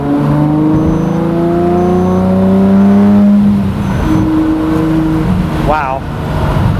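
A Lamborghini Murcielago Roadster engine revs hard under acceleration through the gears on a winding road, a loud, close, sustained roar whose pitch climbs and drops between shifts.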